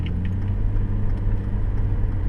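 A car speeds up through a roundabout, its engine a steady, close, low rumble with a faint whir from inside the cabin.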